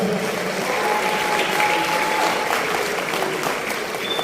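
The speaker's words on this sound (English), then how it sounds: "If you can please honor him and stand up for him and clap for him." Steady applause from an audience honoring a guest at a Brazil 200-year anniversary gathering in Lagos, a continuous dense clapping wash at moderate loudness with a faint tone threaded through.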